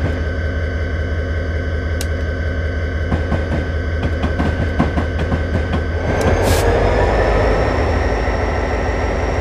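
A train climbing the steepest grade of a North American crossing: a loud, steady low rumble of rolling wagons with rhythmic clatter and a sustained hum that swells toward the end.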